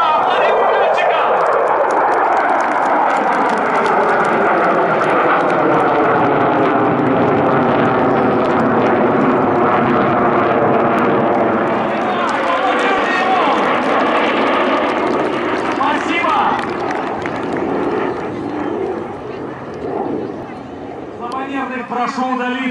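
Russian Knights jet aircraft roar overhead during an aerobatic display at Kubinka, a loud sustained engine rush that sweeps and shifts in pitch as the jets pass, with a crowd and announcer voice faintly beneath.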